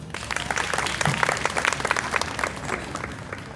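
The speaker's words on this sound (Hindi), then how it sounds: "शानदार प्रस्तुति बहन ज्योति के द्वारा, तालियां के लिए" An audience at a Republic Day celebration at DIET Gonda breaks into sustained applause after a poetry recitation, with dense, loud clapping from a crowd that fades slightly toward the end.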